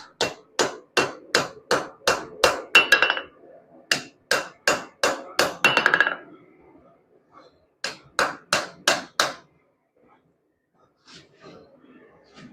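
Light hammer taps on a steel Viking-age sword blade resting on an anvil while straightening it, a steady run of sharp, evenly spaced metallic strikes in bursts with short pauses, close and loud, without speech.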